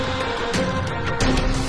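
Orchestral composition built from layered violins with a gritty, distorted synth adding bite and punch, a dense and steady full-band texture with swells around the middle and end, no voices.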